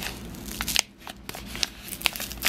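A pink paper envelope holding a handmade card is torn and pulled open up close, giving crinkly rustles and sharp papery rips in uneven bursts.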